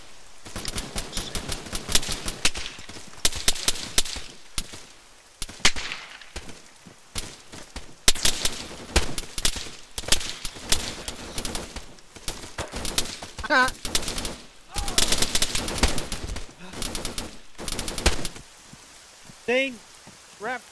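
Machine gun fire rattles through an Arma 3 coastal battle, with repeated bursts of rapid shots and crackling volleys across the clip, mixed with radio voices and chatter.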